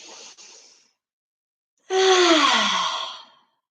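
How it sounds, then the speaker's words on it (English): A child taking deep breaths during a kids' yoga session: a short exhale, a pause of silence, then a long, audible sighing breath out with a slight voiced tone, close and clear. "I want you to take deep breaths here"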